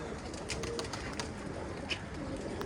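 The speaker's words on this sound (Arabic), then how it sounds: "هاي ما شاء الله الحبريات طلعتهن" A flock of Iraqi hubriyat pigeons being released outdoors, with bird sounds and soft flutters over steady wind-like background noise, moderately faint.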